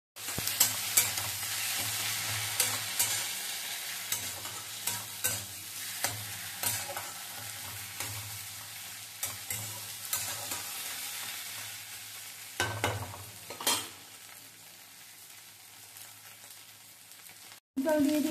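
Pointed gourd pieces frying with cumin in a hot pan, a bright steady sizzle under repeated spatula stirs and scrapes, fading somewhat toward the end, no talking.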